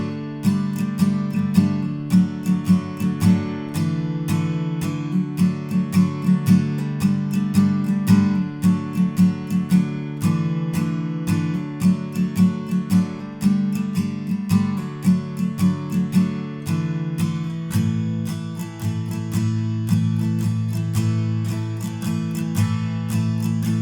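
Acoustic guitar strumming the verse chords of a song, steady rhythmic strokes over sustained chords, played close and alone without any voice.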